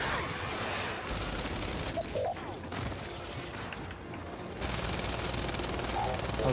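Rapid bursts of gunfire in Gears 5 rattle continuously over a noisy background, with a brief quieter gap midway before the shooting resumes.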